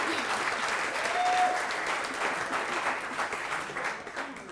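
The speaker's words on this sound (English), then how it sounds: "Yeah, you can applaud that." Steady applause from an audience at a parks and land management partner of the year award ceremony, a continuous dense patter of many hands clapping that holds for several seconds before thinning slightly at the end.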